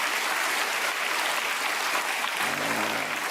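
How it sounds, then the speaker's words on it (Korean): A church congregation fills the space with even, sustained clapping that holds at a steady level for the whole stretch, with a faint low voice beginning under it near the end. "집에서 오손도손 모여서 예배 드리는 분에게 박수 한번 보내주십시오"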